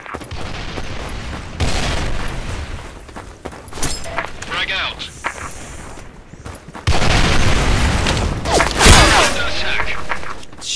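Grenade blasts and gunfire in the Special Force 2 shooter game: several heavy thumps and booms with crackling shots scattered through, the loudest burst near the end, under frequent talk.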